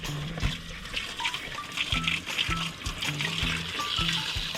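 Water pours steadily into the radiator of an Isuzu MU-7 during a coolant change, a continuous trickling splash with faint clunks in the background and no talk.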